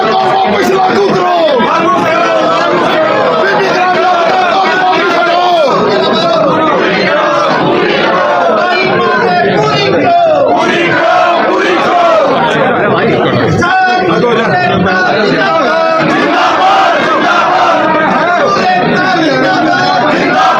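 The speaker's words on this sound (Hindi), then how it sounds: "जींद में डीसी कार्यालय के बाहर जिला जींद कांग्रेस का प्रदर्शन लगातार जारी है, नारेबाजी जारी है" Congress party protesters outside the district commissioner's office in Jind chant slogans together, a loud, dense crowd roar of overlapping voices that runs without pause throughout.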